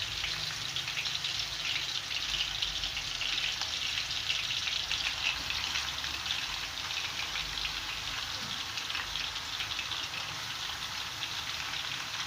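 Minced beef keema sizzles steadily in hot cooking oil in a pan, a dense, even crackling hiss that carries on without a break and with no voices.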